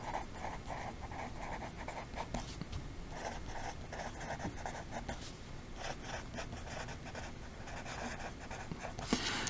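Trigonometric function names being written out by hand on a board or paper in a maths lesson on right triangles: steady, close scratchy strokes in short bursts with brief pauses, and no talking.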